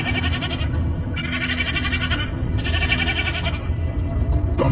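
A young goat kid bleats loudly and continuously in long, strained cries, close and insistent, with no other voices.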